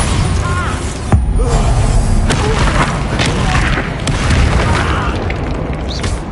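The Bombarda explosion spell cast in the video game Hogwarts Legacy, a dense boom and burst amid loud, busy combat noise with a voice calling out over it.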